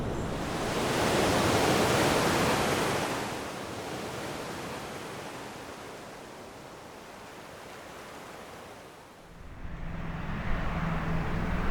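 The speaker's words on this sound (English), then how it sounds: "I could hear the waves breaking along the shoreline in the distance." Ocean waves break along a distant shoreline in the Big Sur wilderness of the Santa Lucia Mountains, heard as a steady broadband wash that swells and fades, with a rougher surge near the end.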